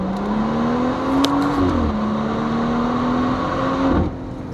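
BMW M140i engine pulling through mountain pass corners in the Swiss Alps: a steady, loud in-car drone that rises, drops briefly as the gear changes, then rises again, with road noise underneath and no talk.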